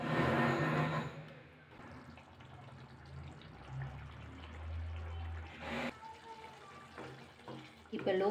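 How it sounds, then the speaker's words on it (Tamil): A cup of water is poured into a hot cooking pan of onion masala, giving a rushing splash and sizzle that fades into a low bubbling simmer, ending with a brief clatter. "ஒரு கப்பு தண்ணி சேர்க்குறேன்."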